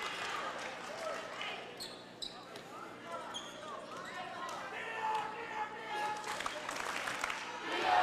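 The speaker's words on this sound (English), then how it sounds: "It's good to hear the crowd still giving these girls a lot of encouragement." A crowd at a girls' basketball game in Coffee County cheers and calls out in a steady roar, with ball bounces and a commentator's voice over the top.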